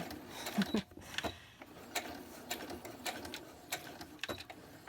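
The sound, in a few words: sewing machine stitching a book cover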